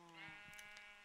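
A Minecraft sheep gives a short bleat, quiet and alone, in a game played with a resource pack.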